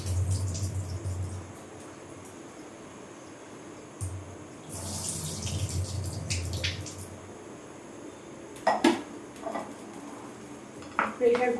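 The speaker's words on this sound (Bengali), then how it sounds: "এবার ডালটা ধুয়ে নেব।" Lentils (dal) being washed with water in a pot, with water swishing and splashing interspersed with clinks of the pot and utensils, close by, under intermittent talk.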